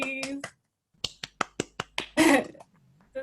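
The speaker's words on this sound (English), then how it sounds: "Round of applause, please." About six sharp finger snaps in an even rhythm during an online spoken word night, close and crisp, set between short bursts of talk and a breathy noise.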